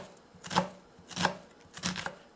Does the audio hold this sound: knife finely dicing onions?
yes